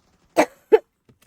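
Two short coughs in quick succession, the first longer and the second sharper, close and fairly loud, followed by near silence.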